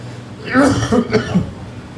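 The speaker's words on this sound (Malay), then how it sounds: "Saya ni batuk sikit memang." A man coughs a few times in quick succession at a mosque gathering, close and fairly loud, with a raspy throat-clearing quality.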